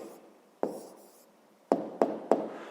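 A pen scratches on paper during a school maths exercise, a few short sharp strokes and taps spaced irregularly, close and quiet against silence.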